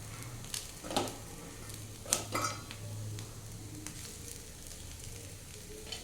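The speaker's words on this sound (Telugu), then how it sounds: "మసాలాలన్నీ అన్నానికి, రైస్కి పట్టేటట్టు బాగా నెమ్మదిగా కలుపుకోవాలి" A spatula works boiled basmati rice through masala on a hot tawa for street-style pulao, giving a faint, steady sizzle with a few soft scrapes and taps.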